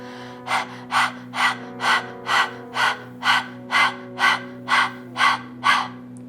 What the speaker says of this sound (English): Panting like a dog, tongue is all the way out.